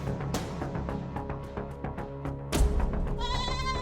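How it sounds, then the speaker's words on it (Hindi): A goat bleats, with wavering cries over a busy musical backing, the last call loud and drawn out. "बकरी को शोर आ रहा है"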